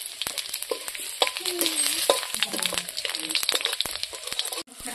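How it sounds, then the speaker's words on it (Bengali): A bay leaf, a whole garlic clove and cumin seeds hit hot leftover fish-frying oil for a sour-yogurt fish curry, crackling in a dense close sizzle with popping spits, and a voice speaks faintly underneath. "মাছ ভাজা তেলের মধ্যে আমি এই যে তেজপাতা একটা গোটা রসুনের কোয়া সাদা জিরে আমি দিয়ে দিলাম"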